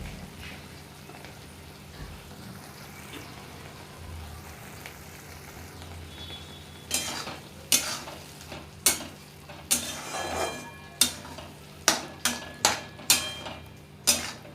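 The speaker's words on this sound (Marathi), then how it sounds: "तेल सुटेपर्यंत आपल्याला आता हे वाटण आणि टोमॅटोची पेस्ट व्यवस्थित भाजून घ्यायची आहे।" Ground masala paste and tomato paste fry in oil, giving a steady soft sizzle. Partway through, a run of sharp, regular stirring scrapes starts and repeats close by.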